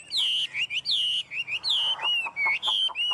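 A hwamei songbird, a caged pet with light reed-coloured plumage, sings close and loud, with bright rising and falling whistled phrases repeated in quick succession and short pauses between them.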